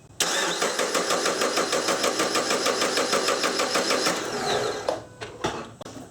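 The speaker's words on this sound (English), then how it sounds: "let's crank the engine." A Subaru engine cranks with a fast, rhythmic whirring for several seconds, then fires and revs briefly before settling down. Close and loud.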